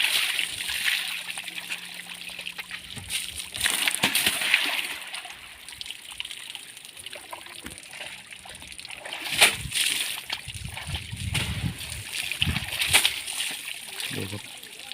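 Water splashes and sloshes around a child playing in a bath, with bursts of splatter rising and falling across the scene while voices speak and call out over it.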